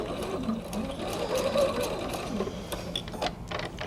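A sewing machine stitching quilt squares runs with a steady fast mechanical whir and needle clatter, close and continuous throughout, with no talking.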